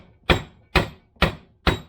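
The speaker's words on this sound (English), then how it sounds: "Now I should be able to bang this shaft out now." Four evenly spaced, loud metallic hammer blows drive a shaft out of the centre differential of a 1973 Range Rover, each strike sharp and close with a short ringing decay.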